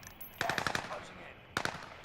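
Video game gunfire in Call of Duty: Modern Warfare: a quick burst of about five sharp shots, then a pause and two more shots, fairly close over a quiet background.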